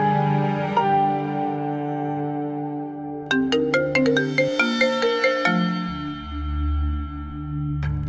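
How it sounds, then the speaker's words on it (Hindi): A phone ringtone plays while an outgoing call connects: a steady electronic melody of clear, repeating tones that rises into a quicker run of bright notes, loud and close, with no voices. "अनिल को फोन करती"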